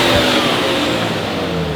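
Nissan R34 GT-R on its stock factory exhaust, revving close and loud with a steady engine roar and a slight drop in pitch.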